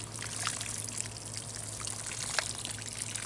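Water poured steadily into a thirsty potted garden plant, a continuous splashing trickle close by with no talking and a low hum underneath.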